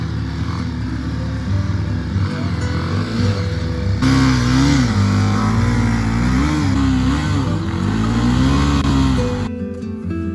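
A motorcycle engine with a possible clutch plate or sensor fault revs hard and close, its pitch rising and falling in repeated surges before cutting off abruptly at the end.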